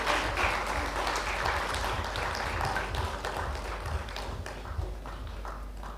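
An audience at a conference opening ceremony applauds children on stage, the steady clapping distant and muffled, continuing evenly throughout.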